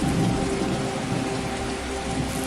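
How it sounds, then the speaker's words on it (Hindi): Heavy downpour of rain outside, a loud, steady, dense hiss of rainfall with a low rumble beneath it, continuing unbroken throughout with no voices. "बाहर मूसलाधार बारिश शुरू हो चुकी थी।"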